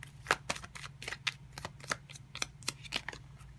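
Tarot cards riffled and shuffled in a quiet room, a run of crisp papery flicks and snaps at irregular intervals over a low steady hum, with no voices.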